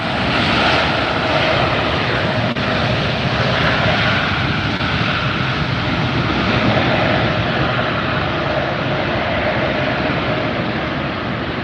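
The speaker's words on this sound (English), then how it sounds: "Beautiful landing from Turkish Airlines." A Turkish Airlines airliner lands at Los Angeles International Airport, giving a loud, steady, broadband jet roar that holds for the whole stretch without a break, close and overwhelming, with no voices.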